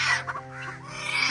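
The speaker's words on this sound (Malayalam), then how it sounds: "കുഞ്ഞിക്കോഴി നല്ല രസമുണ്ട്" A young chick clucking and peeping softly in a short burst of high chirps, nearby and fairly quiet, with a faint low hum underneath.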